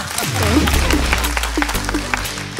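A studio audience at a televised game show applauds in a scattered patter while voices talk loudly over it.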